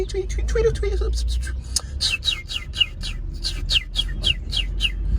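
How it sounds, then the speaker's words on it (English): Repeated bright bird chirps and tweets, several birds calling in quick succession over a low steady background rumble, in Philadelphia's Chestnut Hill neighborhood. "We have birds tweeting."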